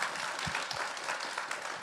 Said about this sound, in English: can we get one more round of applause for all of our amazing filmmakers